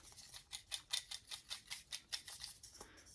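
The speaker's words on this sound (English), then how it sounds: "I have my slips of paper in here." Slips of paper being rummaged and shuffled inside a container for a book-drawing game, giving a rapid series of soft, crisp rustles and clicks at close range, steady and rhythmic for about three seconds with no voices.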